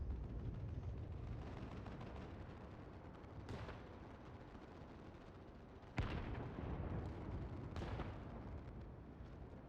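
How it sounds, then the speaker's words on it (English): Machine gun and heavy gunfire rumble in the background of a battle in Final Fantasy XIV, a dense distant roar of shots with a few sharper blasts, fairly faint. "Stock machine guns going on in the background."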